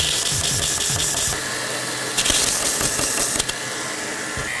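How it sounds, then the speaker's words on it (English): A grinder runs steadily in a knife-making workshop, its motor a loud continuous whine with brief scraping surges as steel meets the wheel, close by and alone without talk. "then I have to get the tail over on that grinder"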